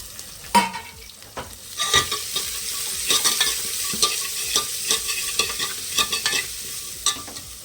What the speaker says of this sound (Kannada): ಸಣ್ಣದಾಗಿ ಉದ್ದಕ್ಕೆ ಹೆಚ್ಚಿಟ್ಕೊಂಡಿದ್ನಲ್ಲ ಏಡಿರುಳ್ಳಿ ಅದನ್ನು ಹಾಕ್ತಿದ್ದೀನಿ